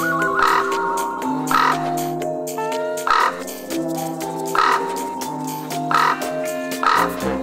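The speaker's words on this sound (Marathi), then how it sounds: "हा बघा कावळा." Crows cawing in Nashik during Pitru Paksha, harsh repeated calls roughly every second and a half over a steady bed of tonal background sound, fairly loud and close.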